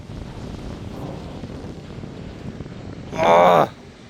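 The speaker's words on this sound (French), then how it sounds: "Oh là le vent. Oh les rafales." Strong storm wind gusts in Isère sweep across the microphone as a steady broadband roar, swelling into one loud, brief buffeting blast near the end; no talking.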